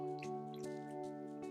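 Water dripping onto a wet watercolor painting, a few soft separate drops falling onto paper over a steady background hum.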